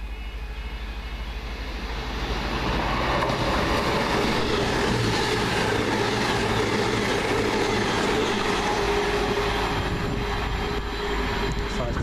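A passenger train passes through Kingsknowe station on its way to Edinburgh Waverley, a loud, steady roar of wheels and engine swelling after the first two seconds and holding close and continuous to the end.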